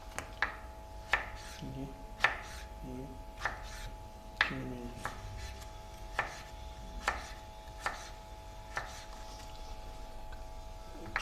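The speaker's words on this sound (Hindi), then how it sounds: "छुरी आपकी जो है ना वो शार्प होनी चाहिए, ताकि कटिंग के दौरान आपको कोई प्रॉब्लम ना हो।" A sharp kitchen knife chops vegetables for a Russian salad in a steady rhythm of crisp, evenly spaced strokes on a board. A voice speaks briefly between the cuts.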